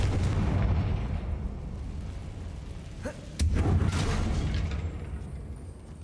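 A Confringo fire-spell explosion from the Hogwarts Legacy video game bursts out with a sharp crack and a deep rumbling boom partway through. A steady low game ambience fills the space before and after.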